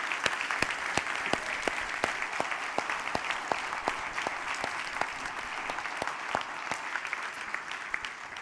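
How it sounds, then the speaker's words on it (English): A convention audience gives sustained applause for a panel of four speakers, a dense, even patter of many hands clapping that holds steady throughout with no talk over it. "Could we just have one more round of applause for our 4 speakers?"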